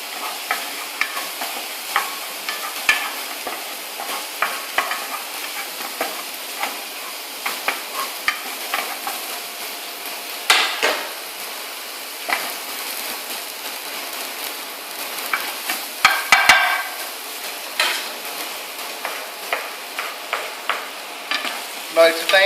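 Onion, garlic and assorted vegetables sizzle steadily in a frying pan, with frequent clinks and scrapes of stirring throughout; a close, continuous crackle with no talking.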